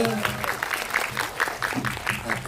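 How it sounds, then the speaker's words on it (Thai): Audience applause at a Thai animated film cinema tour event in a movie theater, a steady patter of many hands clapping at moderate level, with some speech-like sound mixed in. "ขอเสียงปรบมือนิดนึง"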